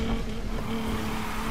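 A race car in Need for Speed Heat drives a circuit race with a steady, loud engine drone and a faint tire hum, unbroken for the brief moment.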